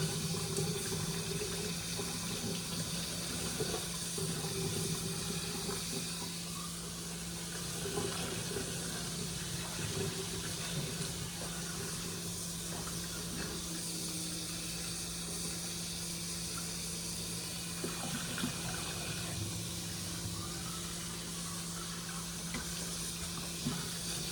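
Tap water runs steadily into a kitchen sink during washing, a soft continuous splashing stream with a low hum beneath it, sustained without pause and no talking.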